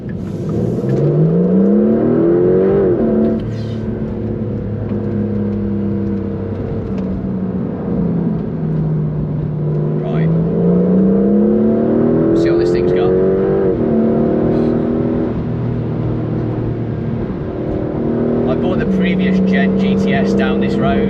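A Porsche 911 992.2 GTS Targa hybrid accelerates hard on a long, bumpy straight road, its engine note rising repeatedly through the gears with loud, close revving while someone speaks inside the car.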